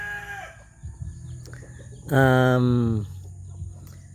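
A rooster of a large chicken breed crows once, loud and close, its call rising and trailing off, with softer clucking and farmyard noise around it.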